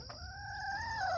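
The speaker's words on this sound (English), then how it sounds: "we're gonna let the chickens out. It's a chicken coop." A short, fairly faint call from one of nine chickens in a coop, a flock of golden comets, an Americana and barred rocks, rising in pitch and held briefly over low background noise.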